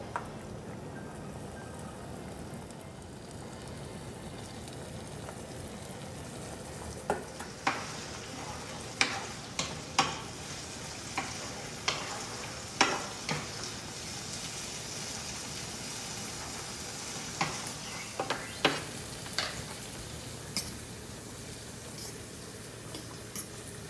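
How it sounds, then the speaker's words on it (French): Salmon oil sizzles in a heated frying pan while pasta cooks nearby. A steady, even hiss of frying continues throughout, with scattered sharp pops and crackles in the middle stretch and no speech. "Ici, on allume la poêle. On met l'huile de saumon dedans."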